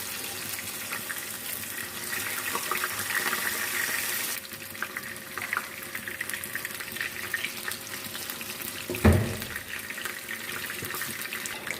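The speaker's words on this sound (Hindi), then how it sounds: "दोनों साइड से अच्छी तरह से हम फ्राई कर लेते हैं।" Potato and gram flour pakoras sizzle steadily in hot oil over a normal flame, a continuous bright crackling hiss with one brief clunk near the end, no voices.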